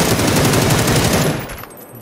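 A P90 submachine gun in a shooter game fires as one loud, rapid, continuous burst that runs for over a second before cutting off, with no talk over it.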